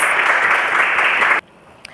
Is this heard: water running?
no